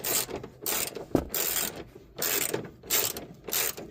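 A ratchet tightens a sway bar bushing mount on a Can-Am Maverick X3, heard as close, loud bursts of clicking strokes in an uneven back-and-forth rhythm with brief gaps.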